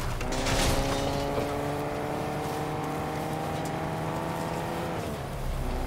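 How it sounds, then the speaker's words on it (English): A car in the video game Fortnite driving nearby, a steady engine drone with sustained tonal harmonics that holds for several seconds and then eases slightly near the end. "I hear a car behind us."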